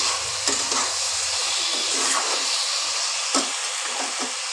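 Okra and potato curry being sautéed in a pan, with a steady close frying hiss and scattered stirring scrapes and clinks throughout, no voices.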